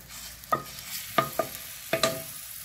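Fish goes into a pan with oil, onion and garlic. A few distinct scraping, stirring clicks sound over a faint sizzle, close and clear, with no talk.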